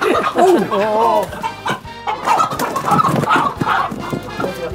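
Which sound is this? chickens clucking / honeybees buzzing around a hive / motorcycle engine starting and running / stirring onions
chickens clucking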